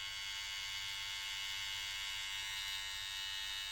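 Kemei 1973 electric hair clipper running, a quiet, steady high-pitched motor buzz with an even hum underneath, continuous for a few seconds with no voices.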